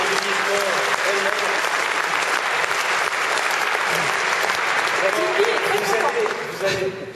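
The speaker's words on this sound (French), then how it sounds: "Je pense qu'on peut l'applaudir." Sustained applause from an audience, dense steady clapping throughout, with a few voices faintly mixed in.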